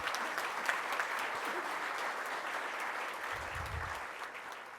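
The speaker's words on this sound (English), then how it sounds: "Would you give them a big round of applause," At a Rotary Club luncheon, a crowd applauds its members, with steady, even clapping from many hands heard at a moderate distance throughout.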